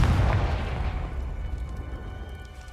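Confringo fire spell exploding in the Hogwarts Legacy video game: a deep, close boom at the start that decays into a rumbling tail over a few seconds, heard alone with no talk.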